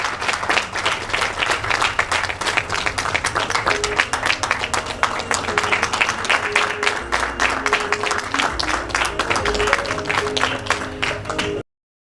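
Sustained, even applause from an audience at the African Young Women Leaders Fellowship Programme event in Kigali, Rwanda, many hands clapping steadily and fairly loudly for about eleven seconds before cutting off abruptly.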